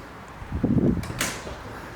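Someone comes in through a door: a short, low thump followed by a brief brushing rush, close by and heard alone.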